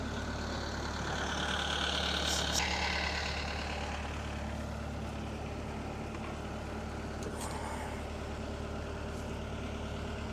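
An engine idling steadily after a cold start, a constant low rumble with a slight swell in loudness early on and no voices.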